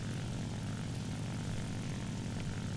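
The steady, droning propeller engine of an IL-2 attack aircraft in the video game War Thunder, cruising at about 280 km/h with a cool engine, a continuous low rumble without change.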